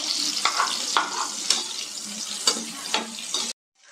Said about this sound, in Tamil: நம்ம சேர்த்த தக்காளி வெங்காயம் நல்லா வதங்கிடுச்சு